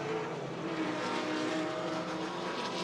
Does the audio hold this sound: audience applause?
no